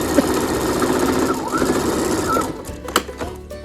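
Sewing machine stitching a single seam down the side of a fabric face mask, a steady fast motor whir running nearly the whole time, slowing and stopping near the end with a few clicks.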